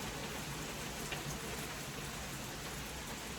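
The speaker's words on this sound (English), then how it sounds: "It's raining. You can probably hear it in the background." Steady rain falls outside, a continuous broadband patter that stays even and moderately quiet throughout, with no voices over it.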